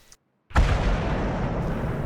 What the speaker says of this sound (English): artillery took the shot and completely missed